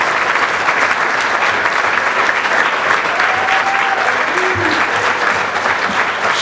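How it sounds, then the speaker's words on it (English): At a bowling hall of fame banquet, a large audience gives dense, loud, continuous applause that holds steady, with faint voices mixed into the crowd. "Everybody give this girl a round of applause."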